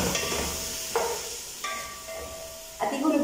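Onions drop into a hot pan for Arabic garsan, a steady close sizzle and hiss that flares up sharply with each new handful hitting the oil, with no voices.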